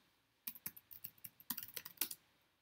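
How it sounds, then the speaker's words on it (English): Keys clack in a quick, irregular burst of typing on a computer keyboard while a command is entered in a Linux shell on Windows, fairly quiet and close, with no talking. "Let's just type sudo before the ls command."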